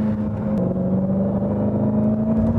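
A Dodge Hellcat's supercharged engine pulls hard out of a corner on track, a loud, close, steady rumbling drone with a strong low tone that holds and rises slightly throughout, with no talking.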